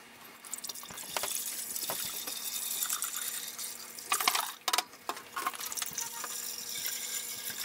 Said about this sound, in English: So, for right now, let's dump some water.